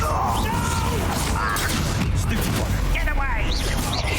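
Fire spell blast cast with Confringo in the Hogwarts Legacy video game, a burst of crackling impact sounds within a dense, continuous wash of loud game effects and combat noise.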